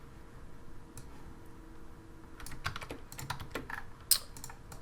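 Code is typed on a computer keyboard in quiet, close keystroke clicks, sparse at first and then quickening into a busier run of taps with one sharper key strike.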